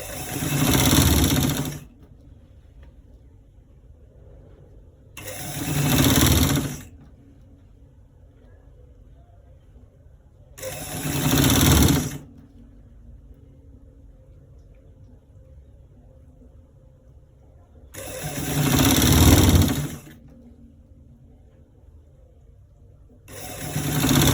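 Sewing machine stitching a collar roll, running in four short bursts of about two seconds each with quiet pauses between, close by over a low steady background hum.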